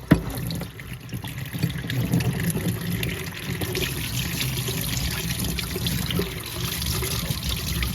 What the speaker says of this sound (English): bring it to the sink to cool off so we don't burn ourselves anymore. Throw it in the sink.